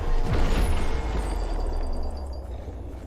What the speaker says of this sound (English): I love how you can hear explosions in the background after I finish combat